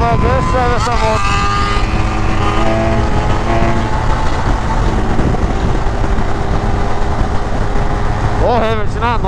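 A 1200 motorcycle accelerates hard on a road, a loud, close engine roar that climbs through rising revs, drops as it shifts, then revs up again near the end, with wind noise and a rider talking over it.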